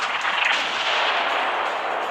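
A single tank cannon shot at an enemy tank in a Kursk battle scene, heard as a loud, close blast of broadband noise that holds for about two seconds without fading much.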